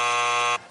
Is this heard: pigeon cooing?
no